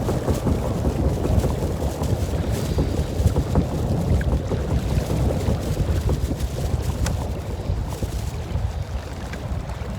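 Strong wind roars steadily across open water around a fishing boat in freezing cold, a loud continuous rush and rumble with buffeting gusts and no voices.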